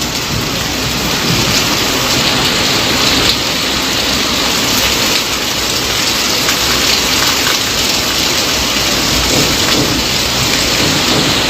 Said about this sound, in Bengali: এখানে তো প্রচুর পরিমাণে বাজে পড়ছে বৃষ্টিটাও বাড়ছে যত সময় যাচ্ছে